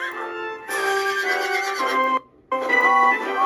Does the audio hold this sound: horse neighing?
yes